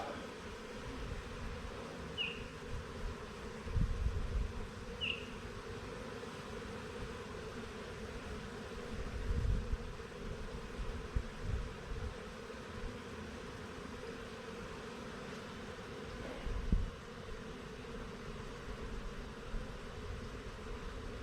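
A swarm of honey bees at a hive outdoors hums as a steady low buzz, with occasional nearer bumps and rustles breaking through.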